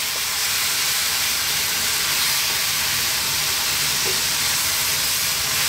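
Fresh pureed tomatoes for a kingfish curry hit a hot pan, giving a steady, loud broadband hiss and sizzle that runs unbroken throughout with no voices.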